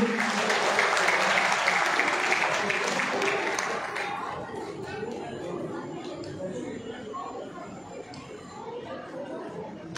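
An audience at a state-level school prize distribution ceremony breaks into loud, dense applause for a student. The clapping fades after about four seconds into murmuring crowd chatter.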